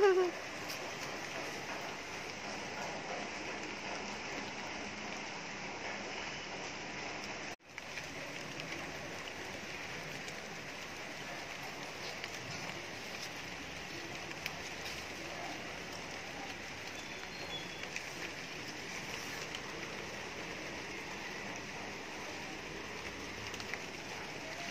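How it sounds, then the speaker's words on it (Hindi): Steady rain falls outdoors among garden plants, making a constant soft hiss with a brief interruption early on. "बारिश गिर रही है"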